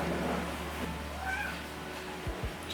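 Housecats meow a few times indoors, quiet and somewhat distant under a low steady hum, followed by a couple of soft thumps near the end.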